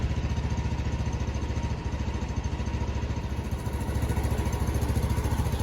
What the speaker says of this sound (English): just warming the engine up, get the oil nice and warm